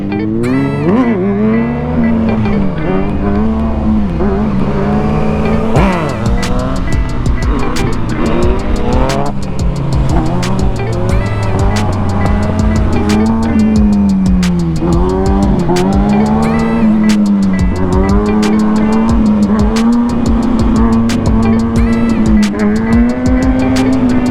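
A car spins its tire on painted road markings, a loud, sustained engine roar rising and falling in pitch with wheelspin and tire squeal throughout, close and continuous.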